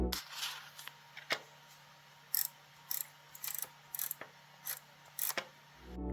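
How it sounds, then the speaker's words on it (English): Scroll wheel on a Veikk Studio 16 pen display being rotated, giving a series of sharp, close tactile clicks in irregular bursts over a quiet background hum, with no talking. "you can hear an audible click when you rotate it"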